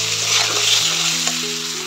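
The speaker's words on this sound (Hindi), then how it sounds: "इसको फिर से अच्छे से फ्राई करेंगे मसाले को" Pork fries in a pan with salt, turmeric and masala, giving a loud, continuous sizzle with stirring and a steady tonal hum underneath.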